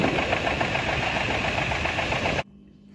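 A running engine knocks loudly and close with a steady rapid rhythmic clatter over a rough mechanical drone, then cuts off abruptly, leaving faint background hum.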